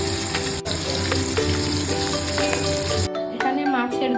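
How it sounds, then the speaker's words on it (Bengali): Chapila fish, salted and coated in turmeric, sizzles loudly in hot oil in a pan, with a dense, steady crackle that drops off abruptly near the end, leaving quieter clinks and softer bubbling. "এবার ভাজার জন্য মাছ দিয়ে দিচ্ছি"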